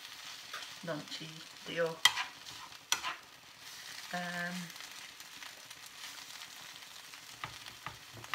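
Vegetables frying in a pan for a quick everyday meal, with scraping stir strokes and soft sizzling close by while a voice speaks briefly over the cooking.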